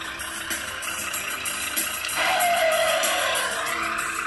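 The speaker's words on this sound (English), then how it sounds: "It consists in welding a metal part inside exhaust manifold to obtain more beautiful sound at deceleration." A truck's exhaust fitted with a Pantana turbina manifold mod in Grand Truck Simulator, droning steadily, then swelling louder and rougher midway with a falling whine as the engine note shifts on deceleration.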